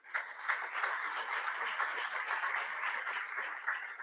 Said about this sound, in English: A round of applause for each one of you.